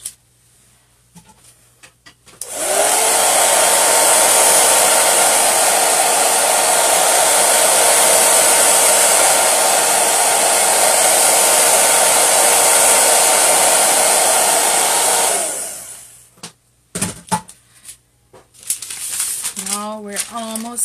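A hair dryer drying a section of a large Chalk Couture chalk transfer roars loud and steady for about thirteen seconds, then switches off, followed by light crinkling of parchment paper.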